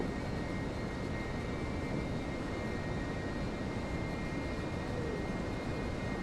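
An A-10 Warthog's jet engines drone steadily on approach, a loud continuous broadband roar with a faint whine and no voices.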